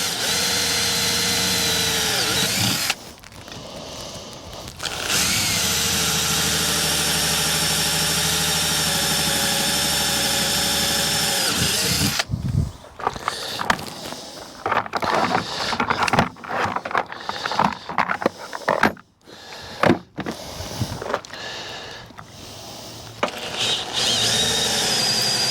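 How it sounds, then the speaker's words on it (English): A power drill bores through thick aluminum on a Marlon boat during windshield fabrication, a loud sustained whine for about twelve seconds, then broken, stuttering bursts with brief pauses as the bit bites and releases. "So it drills nice and easy. I'm glad it's not steel."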